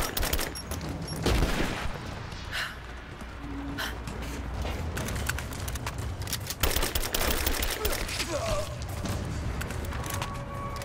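Gunfire in the Rise of the Tomb Raider video game: scattered shots and bursts crackling through a busy, noisy game soundscape, with a short sharper burst near the start and more shots later on.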